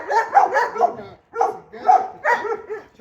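Loud, close dog vocalizations in three quick bursts of yelping barks with whimpery tones, separated by brief pauses, heard on their own with no talking.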